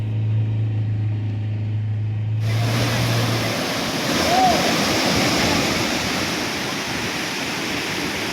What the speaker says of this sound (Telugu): భారీ వర్షాలకు వాగులు పొంగి పొర్లుతున్నాయి.